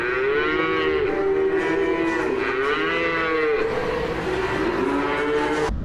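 A dairy cow in Lancaster County moos in long, drawn-out, wavering calls, close and loud, with several lowing bellows running one into the next without pause.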